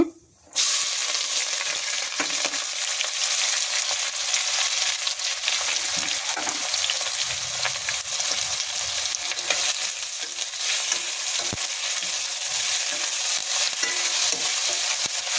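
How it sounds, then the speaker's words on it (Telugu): Green chillies, curry leaves and onions fry in hot oil, a loud steady sizzle that runs unbroken after a brief quiet start, with faint stirring scrapes now and then. "కొంచెం ఎర్రగా వేగనివ్వాలి ఉల్లిపాయ ఎర్రగా వేగినాయండి ఇలాగ వేగనివ్వాలి"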